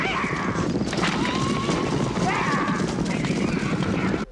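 Horses neighing and whinnying with hoof clip-clop in an open setting, a continuous busy bed of movement with whinnies rising above it, people talking through it.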